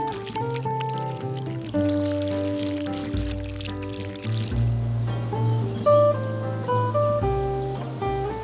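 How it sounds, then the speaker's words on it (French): Water poured over a bed of chicory plants, a steady close splashing pour with trickling and tonal ringing from the watering can throughout. "Bien arroser la plantation."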